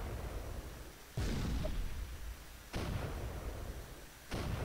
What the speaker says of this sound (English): Going to fire my last shot.